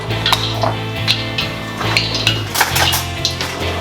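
Dry ingredients are stirred together in a bowl with repeated scraping and clinking of a utensil against the dish, close and fairly steady, while salt and pepper are worked into flour for calamari.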